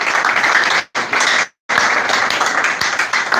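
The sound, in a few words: audience applause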